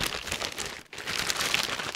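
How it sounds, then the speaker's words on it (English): A sharp new blade stabs into a plastic DHL mailer bag. The plastic crinkles and rustles close up, with a brief silent break partway through. "We've got this brand new nice sharp blade to cut into our DHL bag."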